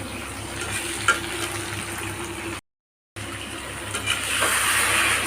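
Mutton curry sizzles and fries steadily in a pan as it is stirred, with faint scraping, a brief gap of silence and a slightly louder sizzle toward the end.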